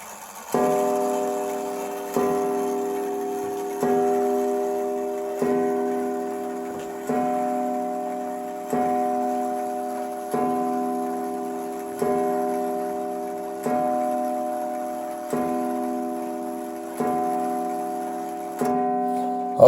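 A vintage Pequegnat Pantheon oak mantle clock strikes a long run of about a dozen evenly spaced, ringing chime blows. Each strike swells and then slowly decays into the next, heard close and clear with no talking.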